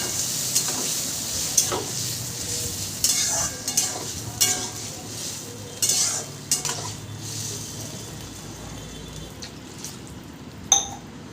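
Boiled dal for sambar is stirred in a hot pan, giving a soft sizzle under irregular scraping and clinks of a metal spoon against the pan, close by, with a sharper knock near the end and no speech.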